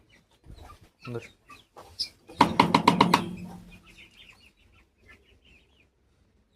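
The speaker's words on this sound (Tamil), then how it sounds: "கிரே கோழி இருக்குது அது சீக்கிரம் முட்டைக்கு வந்துடும் நினைக்கிறேன்" A grey hen clucking in a backyard flock, a quick loud run of about half a dozen close clucks, with softer scattered noises before and after.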